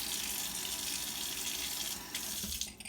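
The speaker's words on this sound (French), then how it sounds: "Alors, je vais mettre un petit peu d'eau chaude." Hot water poured from a kettle onto cocoa powder and sugar in a cup, making a steady close-up splashing stream that continues for nearly three seconds before tapering off, with no talk.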